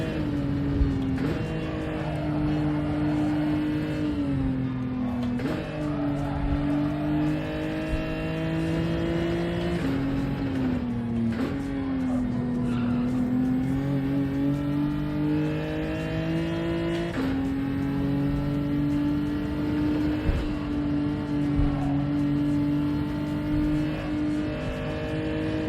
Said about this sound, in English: You must have heard me pumping the accelerator through there.